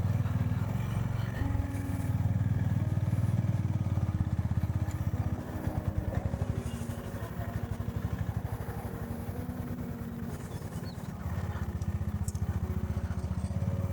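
Motorcycle on a weekend ride from Bangalore toward Bolumalai Fort, its engine droning steadily and close throughout, with a rougher, rattling stretch midway as the bike clatters over uneven ground.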